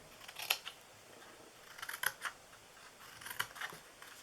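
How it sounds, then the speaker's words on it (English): Scissors snip through paper in a few faint, close clicks, grouped in short clusters with quiet pauses between them. "So we're going to cut in here."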